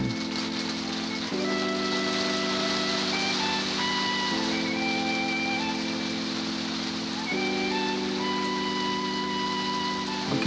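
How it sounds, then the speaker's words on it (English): Rain falling on the roof of an RV under renovation, a steady, even hiss of drops that holds for the whole stretch, with a constant humming tone running underneath. "See, there it goes again, starting to rain again."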